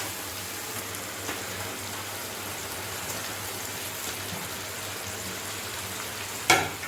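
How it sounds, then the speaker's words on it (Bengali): Fried chicken pakoras drop into a hot pan for chilli chicken, giving a steady, even sizzle like light rain that holds throughout, with a sharper crackling burst near the end. "এবার আমি এর মধ্যে যে পকোড়াগুলো ভেজে রেখেছিলাম সেই পকোড়াগুলো দিয়ে দেবো।"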